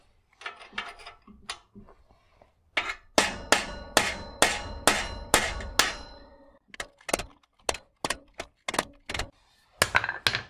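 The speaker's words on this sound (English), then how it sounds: "It's time for a bit more hammering." A hammer strikes a drift to drive the stuck bottom bracket out of an old bicycle: sharp metallic blows come in quick irregular bursts, close and loud, with short pauses between runs of strikes.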